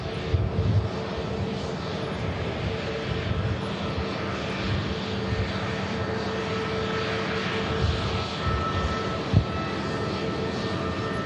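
Ryanair jet rotating on takeoff from runway 05 left at Manchester Airport, a fairly faint, steady, distant engine roar with a soft broadband rush that holds evenly throughout.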